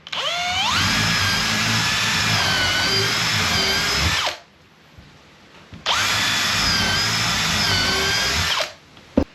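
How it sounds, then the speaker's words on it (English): A power drill whines up to speed and bores holes into wooden deck boards, runs for about four seconds, pauses, then drills again for a second long burst. "So I just drill the holes."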